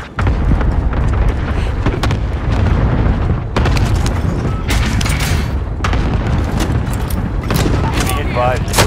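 Airstrike explosions in Call of Duty Warzone's Plunder mode, a series of loud booming blasts and rumbling detonations layered with gunfire, while radio-style voices talk over the barrage.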